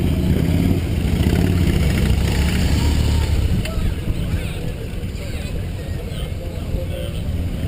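A police motorcycle ridden loudly during a safety day demonstration, a heavy rumbling engine that is loud at first and then eases, under steady background talk.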